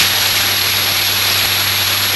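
A Piper Cub light airplane engine with power pulled fully back during a descent, heard as a loud, steady, wind-heavy drone that holds constant throughout with no talking.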